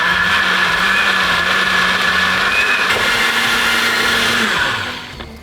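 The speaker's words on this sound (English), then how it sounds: "put them in the blender, a clove of garlic, a 1/3 cup of olive oil" Kitchen blender whirring through roasted peppers with garlic and olive oil, a loud steady motor whine running continuously before winding down in the last half second.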